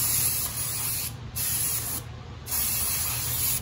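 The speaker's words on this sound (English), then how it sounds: "I'm just gonna go ahead and clean them, spray them down" Three bursts of aerosol brake cleaner hissing onto the front brake rotors of a 2010 Toyota Sequoia, each a second or so long with short gaps between, close and fairly loud.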